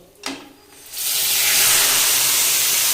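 A lentil and gourd-stalk mixture hits hot oil after a brief clatter and then sizzles loudly and steadily, a close, continuous hiss.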